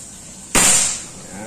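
One loud, crisp PCP air rifle shot from a Predator Monel Ataman folding rifle with a 30 cm barrel at 3500 psi snaps mid-clip, its bright hiss fading quickly back into calm ambient noise.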